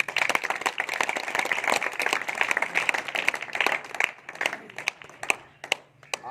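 An audience claps to welcome a guest onto a stage, starting as dense applause and thinning into fewer, more distinct individual claps over several seconds.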